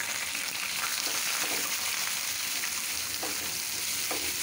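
Onion, garlic paste and green chilies fry in oil for taro leaf greens, a constant close sizzle with occasional stirring scrapes and no talking.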